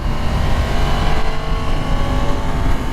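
A 2022 Yamaha MT-10 998cc inline four-cylinder crossplane-crank engine revving loudly and steadily up close, a dense rumbling roar holding for a few seconds.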